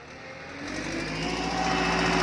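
A tractor engine runs while the tractor is being driven, its steady buzzing drone rising in pitch and growing louder as it revs up.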